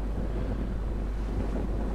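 A sailboat off Anholt runs under a large genoa and full mainsail in a 6–7 knot breeze, with steady wind buffeting the microphone and constant rushing water along the hull, unbroken throughout.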